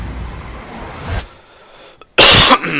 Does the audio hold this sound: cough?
yes